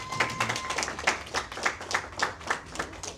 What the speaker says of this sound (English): Come on, please, you can add more panache to that clap.